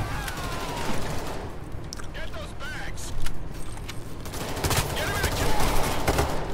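Rapid gunfire crackles through a Payday 3 heist shootout, bursts of automatic fire and shots layered over game noise, with a person talking over the action.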